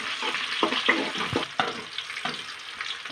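Spices and onions frying in hot oil for a homemade fish curry, a bright continuous sizzle broken by several sharp crackling pops and a few stirring scrapes, close and fairly loud, with no voices.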